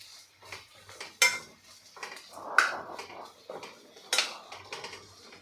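A spoon stirs brinjal curry with peanut-coconut paste in a pan, giving a few sharp metallic clinks and soft scraping, wet mixing sounds in separate strokes, close and fairly quiet with no talk.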